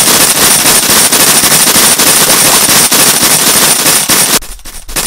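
Pellet guns fire in a Filipino cartoon as a loud, continuous rapid-fire crackle of shots for several seconds, then cut off abruptly near the end.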